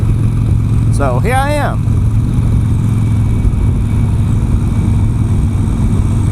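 A Harley-Davidson motorcycle is ridden, its engine a steady low drone running throughout while someone speaks briefly over it.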